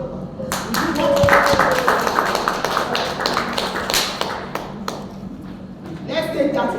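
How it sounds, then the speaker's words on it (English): An audience bursts into a round of applause: dense clapping builds and holds for several seconds, then thins into scattered claps, with voices mixed in. "we need to give them a round of applause"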